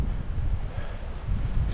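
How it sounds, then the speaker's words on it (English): Strong wind blows across an open mountaintop near an FAA tower as a storm moves in, a loud, rough, continuous roar with gusty surges that buffet the microphone, and no talking. "Very windy up here."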